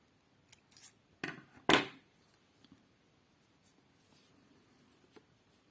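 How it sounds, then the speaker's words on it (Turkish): Scissors snip through blue yarn while a crocheted rose keychain is being made: a few quick cuts, then one louder, sharper close-up snip, with small handling sounds and near silence afterwards. "Mavi ipimizi keselim."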